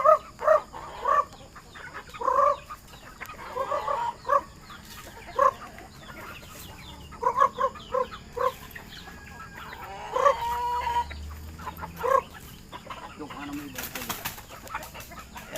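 Chickens, including spangled birds, cluck and call in repeated short bursts at morning feeding, moderately close, with occasional crowing and a brief flutter of wings; a person talks faintly in the background.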